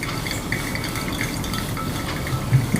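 Water poured in small circles over Ethiopian coffee grounds in a V60 dripper, a steady soft trickle and splash close by, continuous for a few seconds with a small bump near the end.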